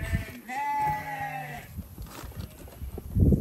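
An old sheep bleats in a long, quavering call near the start, followed by shuffling and handling noises on a farm during sheep work.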